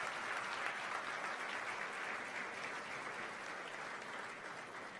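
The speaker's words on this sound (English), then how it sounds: "large round of applause for them," Steady, broad applause fills a hall at a business school convocation ceremony in New Delhi, a continuous wash of many hands clapping that fades slightly toward the end.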